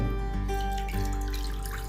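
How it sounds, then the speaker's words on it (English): Water poured into a cooking pan for a jaggery and carom seed kadha, a steady continuous splashing stream that runs for the whole stretch without pauses, close and fairly clear, with no voices over it. "Take a pan and pour water."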